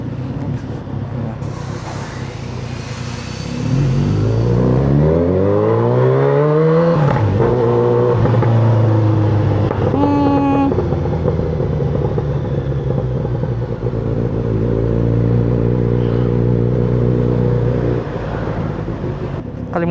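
A Kawasaki Z900RS motorcycle fitted with a larger 61mm mid-pipe exhaust, idling in a low rumble and then revving up and down in several loud, close throttle blips, with a steady engine drone between them.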